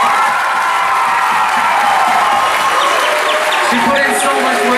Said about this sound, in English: So can we please give a big hand for an Auntie Esther over here?